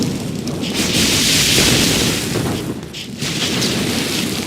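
Torpedo blasts in the strategy game Mental Omega, a loud continuous wash of explosive rumble and booming noise filling the whole span with a brief dip near the middle, no talk.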